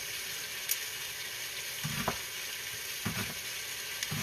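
Chopped onion sizzles steadily in a pot at the start of a homemade chicken noodle soup, a continuous frying hiss with a few soft stirring knocks and taps.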